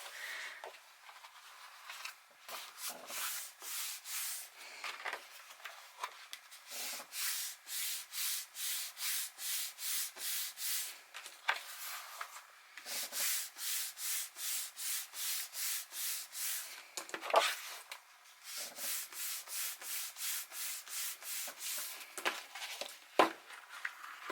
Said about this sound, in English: I'm just holding it, rubbing it a little bit to adhere it.